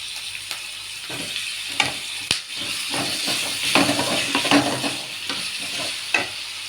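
Vegetables fry in a pan for a paneer gravy, making a steady close sizzle and hiss with repeated scraping stirs and utensil taps, and no one speaking.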